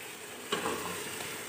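Minced meat frying in ghee for qeema matar, a steady hissing sizzle with a brief stir or clatter of the pan partway through, close and continuous with no talk.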